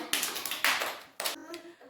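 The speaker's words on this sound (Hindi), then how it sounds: "शाबाश, ताली बजाएं" Children in a classroom clap their hands in a few quick, close bursts of sharp claps over two seconds, with faint young voices between them.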